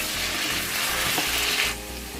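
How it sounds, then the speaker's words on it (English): Potatoes fry in butter in a pan with a loud, continuous sizzle and crackle that stays close and steady, easing off slightly near the end, with no voices. "Just fry it until the skin becomes crispy."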